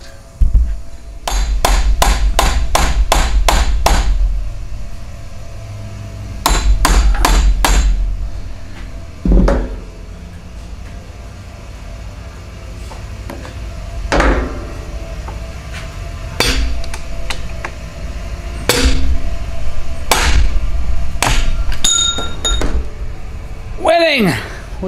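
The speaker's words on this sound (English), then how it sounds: "Gonna try to go a little further in with the screwdriver, see if we can open it up a little bit more, get that thing out" A screwdriver is hammered in to pry a stuck part out of a Keihin PWK carburetor: rapid clusters of sharp metallic hammer strikes ring out in bursts with pauses between, while someone talks quietly in between blows.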